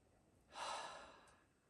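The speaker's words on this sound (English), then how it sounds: "breathe in through your nose as if you're smelling the best cookies coming right" One long, breathy inhale through the nose rises and then slowly fades, soft and close with no talking.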